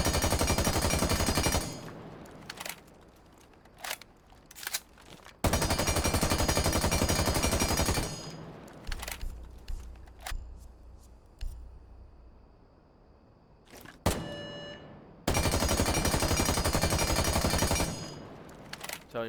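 Spear assault rifle firing in Rainbow Six Siege: three long, loud full-auto bursts lasting several seconds each, separated by quieter gaps holding a few single shots and clicks, with no talking.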